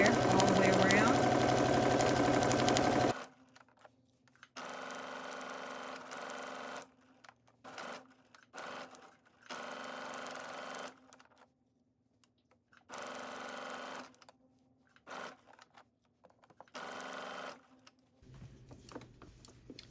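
Sewing machine stitching a half-inch seam on a sweatsuit, heard in several short bursts separated by pauses, fairly close, after an opening stretch of louder broadband noise.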